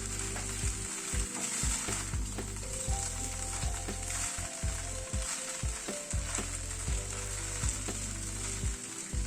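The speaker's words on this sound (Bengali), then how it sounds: "এবার নুডলসটা অ্যাড করে দিচ্ছি।" Rice noodles frying in a pan with garlic, a steady close sizzle interrupted by repeated clinks and scrapes of a utensil stirring, with no talk.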